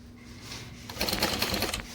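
A sewing machine stitching, starting quietly, then running into a fast, steady mechanical whir of needle strokes for about a second, close and clear.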